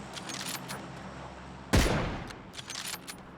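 Gunfire in the video game PUBG: one loud sharp burst with a short decay, followed by a few fainter shots, no talking.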